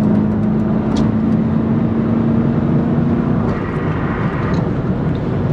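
A 1997 Mustang Cobra accelerates at under half throttle, its engine a loud, steady, rising drone heard from inside the car with a constant low hum and road noise, and no talking.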